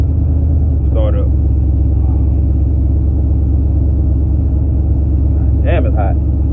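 Car engine idling steadily and loudly after a push button start, a low continuous rumble with brief voices from someone talking over it.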